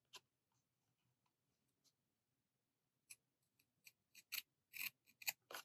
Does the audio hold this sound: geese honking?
no